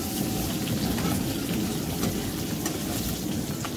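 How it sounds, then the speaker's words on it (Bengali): Pieces of boal fish frying in oil, a dense, even crackling sizzle like heavy rain that stays steady and close for the whole short stretch, with no talking over it. "মাছগুলো ভাজা হয়ে গেছে, ওগুলো এবার তুলে নেব।"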